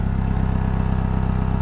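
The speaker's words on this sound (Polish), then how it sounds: "a silnik chodzi równo" A Toyota Previa engine idling evenly after a spark plug change, a steady close-up rumble with a regular low pulsing beat and a slightly rough exhaust tone.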